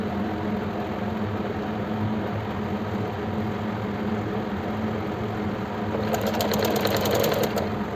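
Sewing machine stitching the seam of palazzo pants, a steady close mechanical whir running throughout, briefly rising louder and more rattly near the end.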